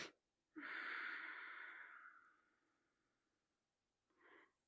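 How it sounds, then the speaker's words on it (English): A slow breathing exercise: one long, steady breath of about two seconds that gradually fades, followed by a softer short breath, heard close and alone in a quiet room. "Inhale 6, exhale down."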